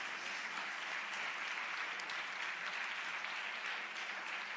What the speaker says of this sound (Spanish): quiero que recibamos con un fortísimo aplauso